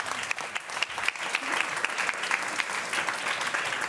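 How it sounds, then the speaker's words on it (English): Audience clapping to welcome guests on an artificial intelligence discussion panel, a steady round of applause with crisp individual claps, fairly close and continuous for several seconds. "Give them a round of applause, please, ladies and gentlemen."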